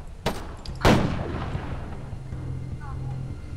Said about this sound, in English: I'm gonna shoot the guy behind the rock.